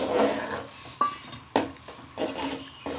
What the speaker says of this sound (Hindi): साथ साथ चम्मच हिलाते जाएंगे